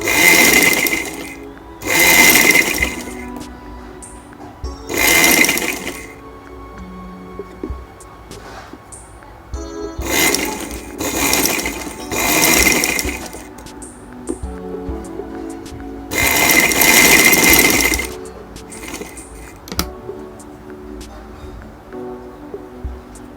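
A sewing machine runs in repeated short bursts with pauses between them while stitching bias-cut black piping onto a ladies' shirt, close by and fairly loud.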